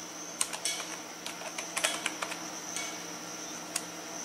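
Keys click on a computer keyboard in short irregular bursts of close, light taps, with a steady high hum running beneath.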